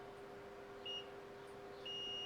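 A multimeter in continuity mode beeps twice when its probes touch a shorted capacitor on an iPhone 8 Plus logic board, short high tones over a faint steady hum in a quiet room.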